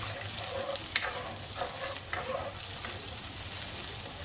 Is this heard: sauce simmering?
yes